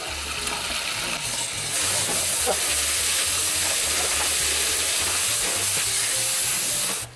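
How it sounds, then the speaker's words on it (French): Red lentils for masoor dal being rinsed under running water in a colander: a strong, continuous rushing hiss that grows louder partway through and keeps going, with a low hum underneath. "je vais prendre un égouttoir, on va mettre le tout dedans, et puis on va les rincer à grande eau"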